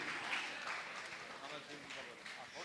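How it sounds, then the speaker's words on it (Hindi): An audience at a religious gathering claps continuously, a dense steady patter of many hands at moderate distance with a voice speaking over it. "तालियां बजाते रहें"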